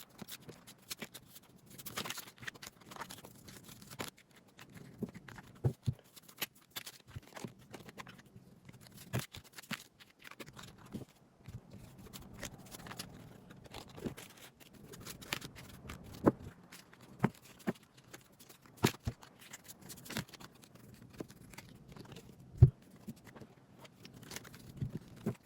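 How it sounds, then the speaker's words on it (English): Playing cards shuffle quickly in a sped-up run of soft, rapid pattering and flicking, quiet and close, with irregular louder snaps scattered throughout. "I'm going to first be shuffling and seeing which cards are flying out to you from your spirit guides"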